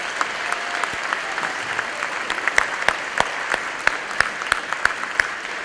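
An evening audience gathered at a school remembrance event gives a steady round of applause, dense clapping with a few sharper individual claps standing out near the end.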